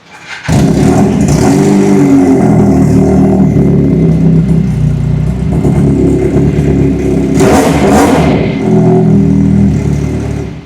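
A loud engine revs steadily and continuously, with a sharper surge of throttle near the end, rumbling close by.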